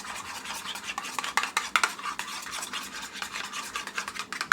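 A spoon scrapes and swirls through a pinkish ketchup-based sauce for a Cajun shrimp boil, a steady close rubbing stir with small clinks against the bowl, no voices.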